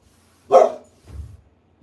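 A dog indoors by an open door gives a single sharp bark followed by a softer, lower muffled woof, both fairly close, with quiet around them.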